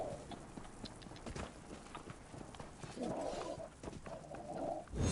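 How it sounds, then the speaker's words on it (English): Horse hooves clip-clop steadily in Elder Scrolls Online, a brisk, even run of mid-loud footfalls over soft ambient game sound, with no clear talk. "Now you're seeing horse."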